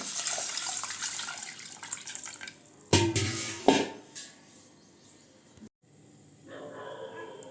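Water pours and splashes into a bowl to soak sago pearls for carrot payasam, starting and stopping in short bursts with clinks between, close by and fairly quiet.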